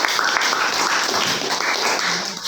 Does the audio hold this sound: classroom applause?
yes